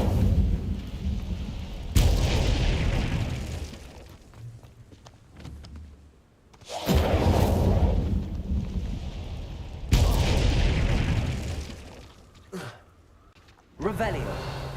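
Incendio fire spell cast repeatedly in combat in the video game Hogwarts Legacy, three loud booming whooshes that erupt and roar for several seconds each, separated by quieter gaps of game ambience.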